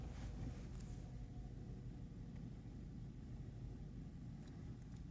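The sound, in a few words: BMW 318i E92 engine idling after start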